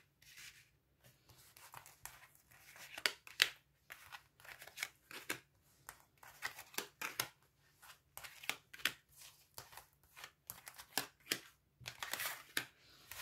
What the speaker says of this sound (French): on va étaler les cartes, on va aller faire le tableau. On va prendre 9 cartes.